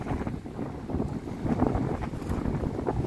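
Strong wind buffets the microphone outdoors near water, a dense, steady low roar with gusting surges throughout and no speech.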